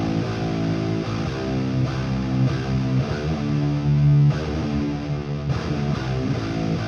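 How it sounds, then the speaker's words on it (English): Layered heavy distorted electric guitars play chugging chords in A, doubled by an octave-down low track, loud and dense with no voices. "So these guitar tones together."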